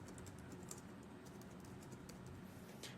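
A name is typed on a computer keyboard, a quick run of soft, light key clicks in an uneven rhythm, faint and close, with no talking.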